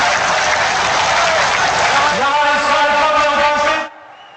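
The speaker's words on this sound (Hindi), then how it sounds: "एक बार जोरदार ताली बजाकर आदरणीय प्रधानमंत्री जी का वंदन करें, अभिनंदन करें" Dense, loud applause from a big crowd at a Narendra Modi political rally in Jodhpur, continuing steadily for nearly four seconds, with voices under it near the end, then cutting off sharply.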